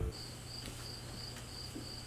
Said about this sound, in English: Nothing? Crickets. Crickets.